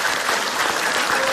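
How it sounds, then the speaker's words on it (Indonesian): Studio audience applause on an Indonesian comedy talk show, a dense, loud, steady wash of clapping from a crowd throughout the short burst. "tepuk tangan dulu dong"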